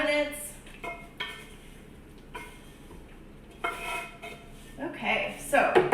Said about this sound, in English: I just scraped my onions, my garlic, and my toasted pasilla chilies in here